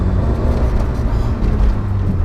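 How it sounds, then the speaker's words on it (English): A small car engine buzzes steadily and continuously at close range, with a low droning hum and no pauses. "Buzzy little engine."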